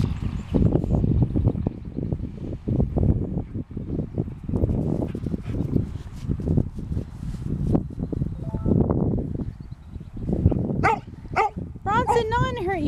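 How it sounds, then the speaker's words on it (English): A pet dog barks and yips in short bursts close by, mixed in with ongoing indoor talk, with a few higher whimpering yelps near the end. "I had to get her to stop barking."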